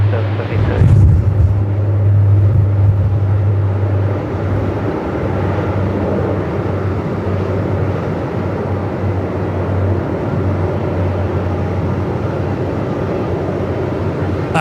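A Qantas airliner landing on runway 34 at Melbourne Airport in strong 45-knot winds makes a loud, continuous roaring rumble with a steady low hum and gusty wind noise, while a voice talks over it.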